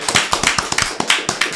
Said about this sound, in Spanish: Señores, un fuerte aplauso.